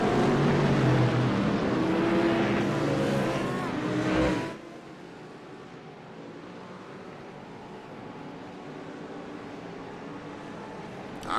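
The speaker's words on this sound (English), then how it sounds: "the Porsche pace car leads them around" GT3 race cars follow a Porsche pace car around the Bathurst circuit, their engines roaring loudly for about four seconds before cutting away to a quiet background hum.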